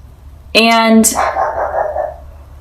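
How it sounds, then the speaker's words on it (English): A dog gives one drawn-out, howling bark up close, then a second shorter yelp, followed by a trailing whine-like sound. "I don't know why my dog is barking"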